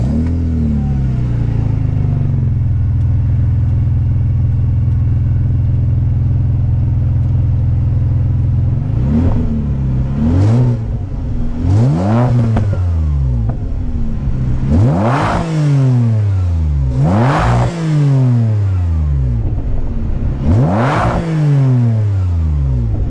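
Ferrari 612 engine idles with a deep, steady rumble, then gets revved hard several times in quick bursts, each rev climbing and falling back, loud and close with no talking.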